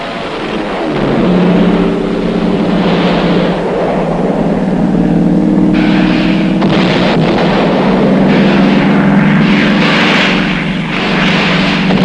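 A loud, steady engine roar of military fighter planes passing overhead during a Korean War strike, with a deep rumble and rising whine that swells and shifts throughout.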